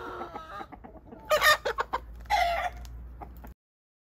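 A hen clucks close by in a series of short, uneven calls, with a couple of louder squawking bursts, then goes quiet.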